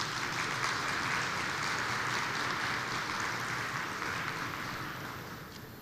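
A large conference audience at the World Energy Congress 2013 gives a dense, sustained round of applause for a speaker taking the stage, a steady wash of many hands that fades slightly toward the end.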